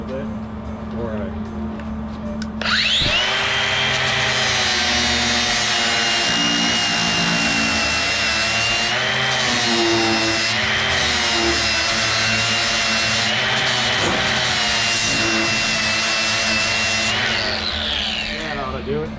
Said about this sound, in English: I'm going to take and grind this tacks out a little bit